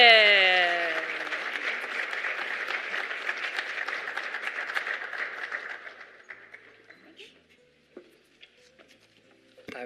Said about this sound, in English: Please give him a resounding applause.